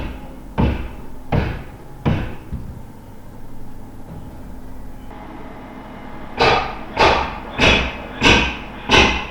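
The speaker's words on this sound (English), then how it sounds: "They're banging his door in." Heavy repeated thuds land in two bursts: three blows, a pause, then five stronger strikes in a steady rhythm, as police batter a door in.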